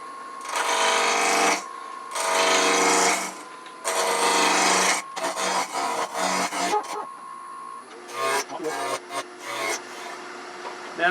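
A wood lathe turns a pepper mill blank, giving three long bursts of whirring, scraping cutting sound. Shorter, choppier bursts and scrapes follow.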